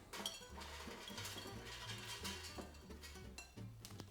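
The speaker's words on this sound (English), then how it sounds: "And then I'll just pop them straight into the air fryer." Crispy herby stuffing balls go into an air fryer basket with quiet clinks and light metallic knocks of cookware, a steady low hum beneath, faint and close with no voices.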